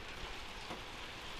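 Steady rain falling outdoors on a farm in the countryside, a dense even hiss of drops that stays constant and fairly close, with no talk.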